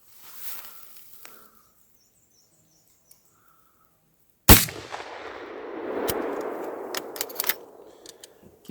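A Marlin lever-action rifle fires a hand-loaded soft-point round outdoors at a log cabin, one sharp loud crack followed by a long rolling echo, with faint birdsong and clicks before the shot.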